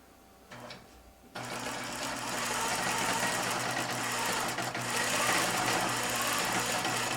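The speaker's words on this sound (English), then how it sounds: "So I'm going to touch start, and now I'll start sewing this flower." An embroidery sewing machine stitching a flower starts up after a brief quiet moment, then runs as a steady, loud mechanical whir with a rapid, even needle rhythm throughout.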